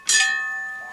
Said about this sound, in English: Those are chimes.